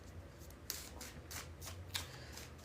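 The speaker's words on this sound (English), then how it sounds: "and then I'm going to do 3 more shuffles." A deck of tarot cards is shuffled for a reading in a quick riffling burst of papery flicks and two sharp snaps, close and quiet with no talk.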